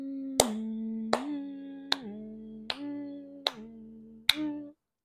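Six sharp hand claps spaced roughly a second apart, with a steady hummed tone underneath between them, close and clear.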